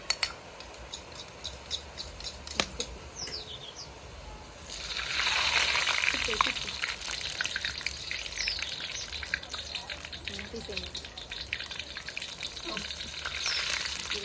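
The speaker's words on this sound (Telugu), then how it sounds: "నూనె ఎంత వెడల్పుంటే అంత వెడల్పుని పోసుకోవాలి బూందీ తొందరగా అయిపోయింది" Boondi batter for laddu is poured into hot oil and fries with a sudden rush of bubbling sizzle that settles into steady crackling, after a quieter stretch of clinks and rustles.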